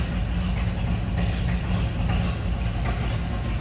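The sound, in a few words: inline six engine idling, split manifold rumble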